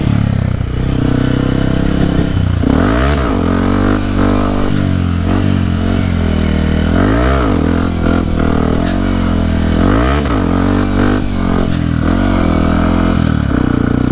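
A CRF dirt motorcycle with a bored-up engine revving on a grasstrack circuit, loud and close, its engine note rising and falling in repeated throttle blips over a steady drone.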